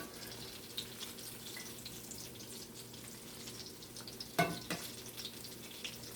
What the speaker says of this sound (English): So folks, these are going to be frying,